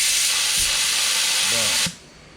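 Compressed air forces liquid out of a can through a small tube, making a loud, close, continuous spraying hiss that stops abruptly after about two seconds.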